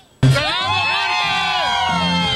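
A large crowd at a concert in Los Mochis, Sinaloa, erupts into loud, sustained shouting and cheering with whoops, starting abruptly and holding steady throughout.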